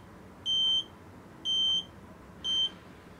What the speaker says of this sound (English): and also you hear the beeping sound like this